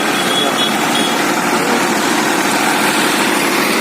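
Steady, loud drone of large engines pumping out floodwater in Vijayawada, a continuous mechanical roar with no pauses and no voices.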